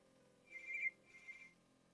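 A telephone rings in two short, quiet bursts with a brief gap between them, against an otherwise hushed room and no voices.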